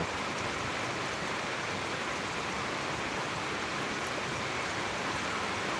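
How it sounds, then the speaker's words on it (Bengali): Heavy rain pouring down steadily, a dense unbroken roar of falling water close by with no voices. "দেখুন প্রচণ্ড বৃষ্টি বইছে"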